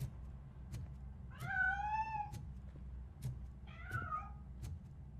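A cat meows twice in RoboCop: Rogue City, each call a drawn-out rising and falling wail, close and clear over a low steady game ambience with brief clicks between.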